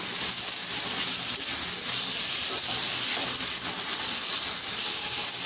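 Strips of capsicum sautéing in a pan while vegetable fried rice is cooked give off a loud, steady, unbroken hiss and sizzle throughout.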